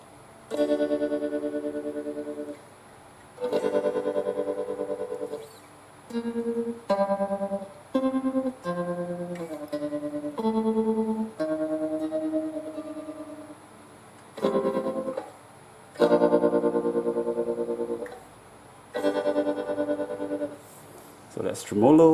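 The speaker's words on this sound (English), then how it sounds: "Let's try a tremolo." Guitar played through a POCKAMP portable guitar amplifier with tremolo effect on, chords and single notes ringing in bursts with pulsing volume, close and clear, no talking.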